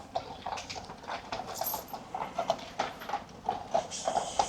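Hooves of big carriage horses clip-clop in a steady, even rhythm on a Copenhagen street, close by and fairly clear over light background city noise.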